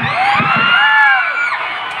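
A festival street crowd in Pagadian shouts, whoops and cheers at close range, a loud sustained roar of many voices with rising high yells.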